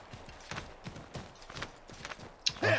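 Horse hooves clip-clop in steady, evenly spaced beats in the video game Assassin's Creed III, a walking gait of about eight footfalls at moderate loudness, ending in a louder burst of scraping noise.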